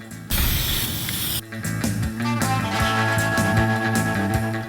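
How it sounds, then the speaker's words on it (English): Aerosol spray paint hissing onto radiator brackets being painted to match a car frame, loud bursts starting and stopping, with a steady background tone running underneath. "so I busied myself painting the radiator brackets to match the frame"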